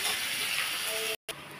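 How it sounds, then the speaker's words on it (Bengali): Chopped onion fries and hisses in a pan, a steady soft broadband sizzle that briefly drops out before resuming, fairly quiet and close. "এই কুচনো পেঁয়াজ যেটা রয়েছে সেটাও এর মধ্যে দিয়ে দিচ্ছি। দিয়ে আমি এবার একটু নেড়ে নেব, একটু হালকা হালকা ভাজবো।"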